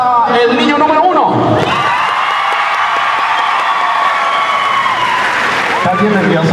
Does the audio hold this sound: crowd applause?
yes